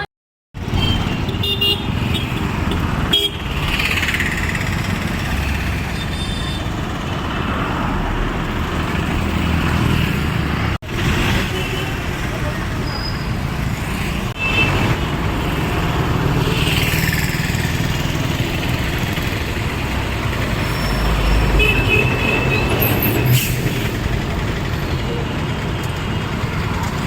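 A state-run RTC passenger bus reversing outside a police station, its engine rumbling steadily and loudly with a few short horn toots, mixed with street noise and people talking nearby.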